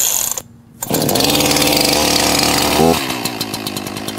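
Echo CS-4910 chainsaw starts after a pull, its engine catching with a sharp roar and then running loudly at fast idle with a steady buzzing drone, close by and alone.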